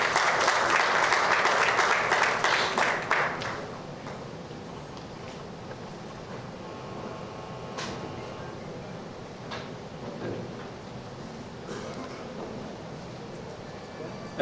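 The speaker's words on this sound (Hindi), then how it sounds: "मंजरी जी के लिए एक बार तालियां हो जाए।" Audience applause welcoming actress Manjari Phadnis at an app launch event, a loud burst of clapping for the first few seconds that quickly fades into room murmur with scattered voices and brief knocks.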